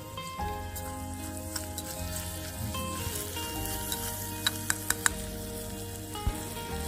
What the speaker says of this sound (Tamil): நம்ம பொடியாக நறுக்கி வச்சுருக்க வெங்காயத்தை இது கூட சேர்த்து வதக்கிடலாம்.